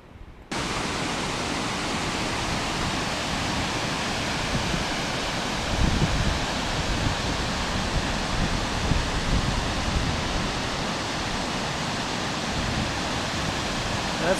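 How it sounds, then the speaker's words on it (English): Steady, dense roar of a mountain waterfall heard close by, a continuous broadband rush filling the whole stretch with only slight swells and no voices over it. "I'm gonna head over by the waterfalls."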